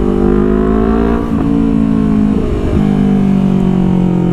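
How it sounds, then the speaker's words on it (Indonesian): A Honda CBR250RR motorcycle with an R9 aftermarket exhaust revs loudly and close up, its strong buzzing engine tone holding steady, then dipping briefly twice as the throttle changes before settling back. "Soalnya si Hisam dia pakai knalpot R9, jadi suaranya itu nembak banget."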